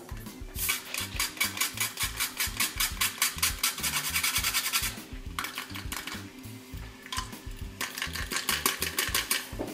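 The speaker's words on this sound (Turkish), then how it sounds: "Bir parça muskat rendeliyorum." Nutmeg grated for a carrot and potato soup, heard as a steady run of quick, rhythmic scraping strokes, close and fairly loud, with a short pause midway and no talking.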